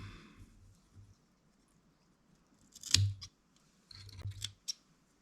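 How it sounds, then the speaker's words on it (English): Tying thread is snipped off at an angle with scissors, a couple of crisp close cuts against a quiet background, with faint handling clicks before and after. "And I cut it off at an angle."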